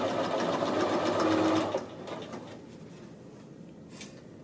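A sewing machine stitches the top edge of a men's shirt collar, a close whirring run of rapid stitching for under two seconds, then stopping into quiet handling noises.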